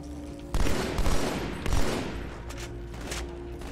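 Rapid bursts of gunfire from a weapon in the video game Halo 2. Several loud volleys sound up close, and a steady hum of game ambience sits between them.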